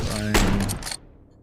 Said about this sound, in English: Oh, you shot him.